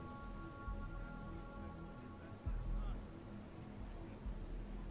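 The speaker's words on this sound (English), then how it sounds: "it would be nice if it would stop raining" Steady rain falls in Starfield, a constant soft patter on surfaces at low level, heard beneath a faint tonal hum, with a few duller thumps along the way.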